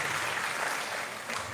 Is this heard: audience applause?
yes